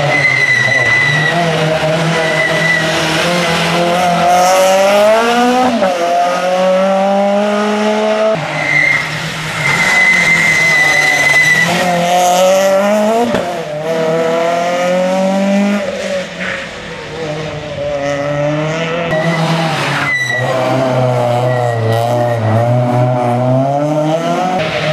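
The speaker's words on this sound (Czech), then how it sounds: "Krásně tichý Citroen, slyšíte to?" A Citroen rally car at Rally Bohemia 2009 roars past at full throttle. Its engine rises and falls through repeated gear changes, with tire squeal and skidding, loud and close, and no voices.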